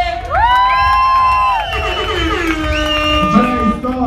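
A party crowd cheers and whoops for the DJ at a birthday celebration in Asti, with loud sustained shouts rising and holding over a dense roar of voices for about four seconds.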